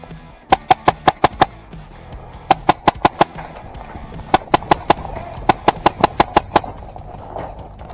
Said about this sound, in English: Taking fire, your way, Jane.